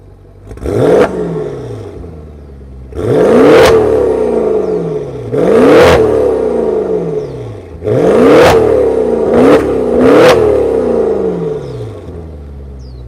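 A 2020 Maserati Quattroporte GTS GranSport engine blipped through five loud revs, each rising to a roaring peak and falling back to a steady idle between them, heard close from behind the car.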